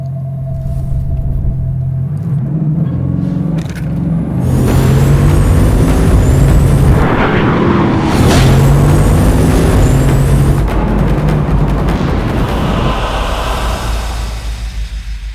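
A Bugatti Chiron's engine roars loud and close in Bugatti mode, a deep continuous rumble that swells and surges for many seconds with no talk over it.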